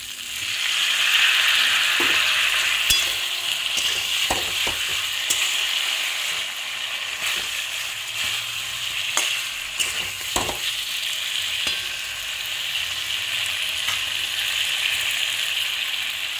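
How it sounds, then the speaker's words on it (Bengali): Koi fish curry base of cauliflower and potato sautéing in a pan, a steady close sizzle and fry running throughout with occasional scraping stirs and utensil clicks, no voices. "দিয়ে এটাকেও ফুলকপির সাথে ভালো করে কষিয়ে নিতে হবে। অল্প অল্প জল দেবো আর কষাবো।"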